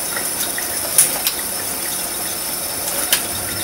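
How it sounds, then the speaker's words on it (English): Steady tap water runs over a peeled egg in a kitchen, a constant close hiss with a few faint clinks over it. "It starts to get hot, run it under the water again."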